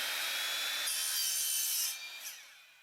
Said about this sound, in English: Mark the coping at the other end of the masonite and cut it to length.